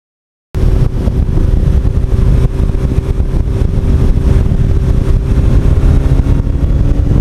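A 1982 Suzuki GS1100E motorcycle runs at open throttle on the road, giving a loud, continuous engine drone mixed with heavy wind rush from start to finish.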